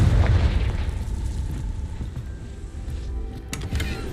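Confringo blasting spell exploding in Hogwarts Legacy, a heavy booming burst with a low rumbling aftermath that slowly subsides, followed by a few faint crackles, no talk over it.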